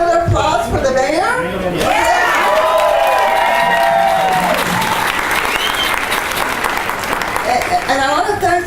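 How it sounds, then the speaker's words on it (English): Loud, sustained audience applause for the mayor at a 25th anniversary César Chávez Day celebration in Albuquerque, clapping steady throughout with some cheering and a voice speaking over it at the start. "And let's give another applause for the mayor."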